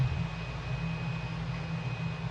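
Steady jet engine drone of an F-15 Eagle on approach in a flight simulator as flaps and landing gear are lowered, a continuous low rumble with a faint high whine, even and unbroken throughout.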